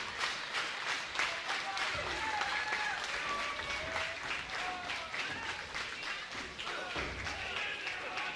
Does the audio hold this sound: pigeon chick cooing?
no